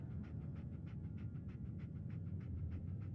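Dogmeat, the dog companion in the video game Fallout 4, pants in a steady quick rhythm of about a dozen soft breaths, close and alone over a low background hum.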